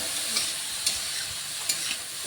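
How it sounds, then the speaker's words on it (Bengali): Steamed papaya is stir-fried in a pan, a steady hiss of sizzling oil broken by a few quick scrapes of the spatula, close and even with no talking. "তারপর নেড়ে চেড়ে হালকা করে ভেজে নিতে হবে"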